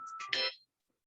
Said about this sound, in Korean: 전화가 갑자기 와서 정신이 없네요